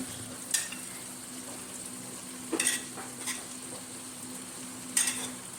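Anchovies fry with sambal in a pan for Malaysian nasi lemak, a faint steady sizzle under a low hum, broken by four or five brief scraping clatters as a spatula stirs the mixture.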